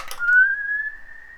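A human voice whistles in imitation of a falling cannonball: one clear, sustained whistled tone that holds steady for just over a second, close and alone.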